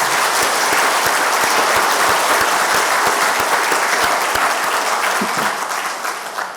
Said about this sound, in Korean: 다시 한번 큰 박수로 우리 감사합니다